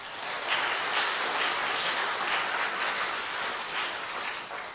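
Audience applause at a symposium keynote speech, a fairly quiet but steady wash of clapping that lasts the whole few seconds with no talking over it.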